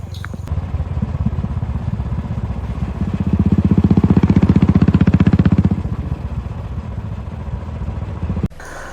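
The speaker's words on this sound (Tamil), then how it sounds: "இப்போ நம்ம வண்டியை இங்கே வந்து பார்க் பண்ணிவிட்டு" A vehicle pulls in at the east gate of Tiruvalangadu temple near Arakkonam, its motorcycle-like engine rumbling close and swelling briefly louder before idling down and cutting off near the end.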